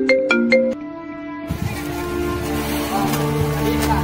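A phone ringtone plays a few quick bright tones, then a melodic tune continues steadily over a low background, loud and close.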